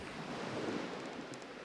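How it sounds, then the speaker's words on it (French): A steady, even wash of ocean surf hissing continuously, with a soft rushing texture and no voices. "Tu te laisses bercer par ce bruit des vagues,"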